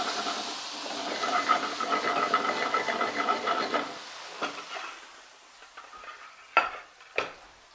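Potato gnocchi hit sage butter in a hot pan and fry with a loud, steady sizzle for about four seconds, then the crackle thins to quieter spits and a couple of sharp pops.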